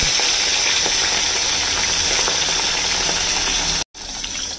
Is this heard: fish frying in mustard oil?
yes